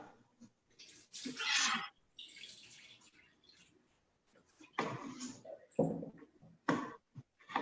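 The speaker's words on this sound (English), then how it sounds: "discard the water that you have your chopped up ground provisions in. Put it down the sink." Water drained from a bowl of chopped ground provisions is poured into a kitchen sink, splashing in several loud, uneven bursts separated by short pauses.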